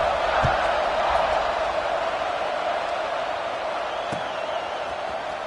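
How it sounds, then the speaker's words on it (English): Football stadium crowd during a Miami vs Alabama game buzzing after a score, a dense, steady roar of many voices from far off, with a couple of faint thuds and play-by-play commentary faintly underneath. "this crowd is buzzing after that last score"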